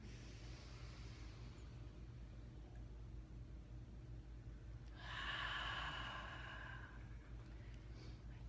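A single exhale during a guided breathing exercise, a soft breathy rush of air near the microphone, faint and brief against a quiet background.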